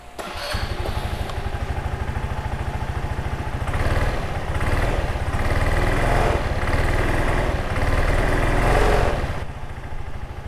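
A 2003 PGO My Bubu 125 scooter engine running close up, a steady rapid thrumming idle with a persistent mechanical clatter that rises and swells in short revving surges, suspected of knocking.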